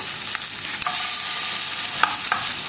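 Shallots and sliced garlic sautéing in a pan for Chettinad fish kuzhambu produce a steady, bright sizzle with occasional light clicks of a stirring spoon, close and continuous without speech.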